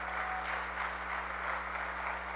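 A church congregation claps together in a dense, even wash of applause that holds steady throughout, heard from inside the room over a low hum.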